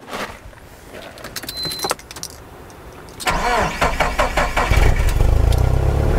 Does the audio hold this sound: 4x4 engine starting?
yes